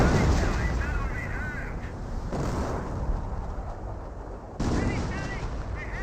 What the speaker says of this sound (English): And now the Panther is receiving some artillery fire.